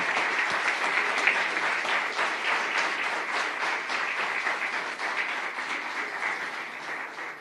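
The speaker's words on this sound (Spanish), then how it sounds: "Damos un aplauso al Señor por este nuevo año." A church congregation applauds during a service, a full, continuous spread of many hands clapping at moderate volume that holds steady and then tapers slightly at the close, with no voices heard.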